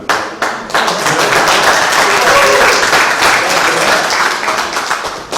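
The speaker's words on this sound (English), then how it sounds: "Come on up. I'll clap for you." Loud, sustained applause from a crowd welcoming candidates at a county chamber candidate forum over coffee, with a few early claps building into steady clapping that holds for several seconds.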